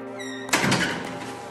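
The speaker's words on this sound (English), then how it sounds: "I came to the door of my house and went inside." A house door is opened by someone stepping inside, marked by a single solid thunk that cuts in after a faint tonal hum and then fades into a soft, lingering rustle.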